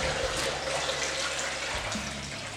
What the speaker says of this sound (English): So if I drain out that water